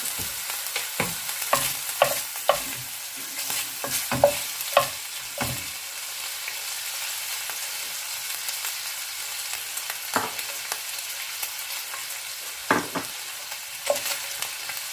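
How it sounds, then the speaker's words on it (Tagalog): Cooking oil sizzling in a pan for a sauté, a faint steady hiss with scattered close clanks and scrapes of a utensil stirring, busier early then sparse, with no talking. "Para mag-gisa na tayo."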